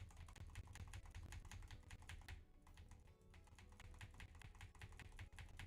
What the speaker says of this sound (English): So can you hear that typing still?